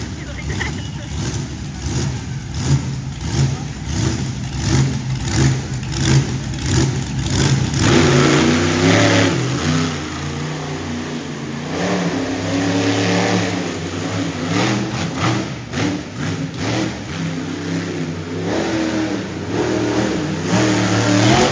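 A monster truck engine revs hard and loud during a solo qualifying run at a monster truck show, the roar swelling and surging over about twenty seconds with crowd and announcer noise mixed underneath.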